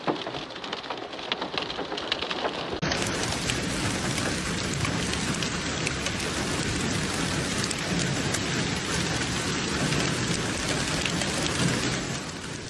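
Heavy rain from a thunderstorm pours steadily, a dense loud hiss that grows fuller after a brief quieter start, with low rumbling beneath and no voices.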